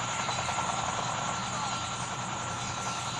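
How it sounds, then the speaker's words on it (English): A video game stealth helicopter's steady rotor drone holds at an even, fairly loud level throughout, with a broad engine whine and no change in distance. "Be advised, hostile stealth chopper inbound."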